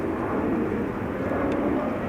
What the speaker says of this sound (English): Parallel departures in progress.